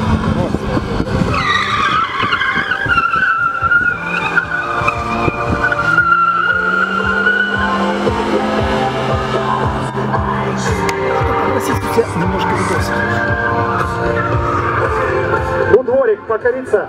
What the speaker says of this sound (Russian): Это не тележка, автомобиль марки Ford.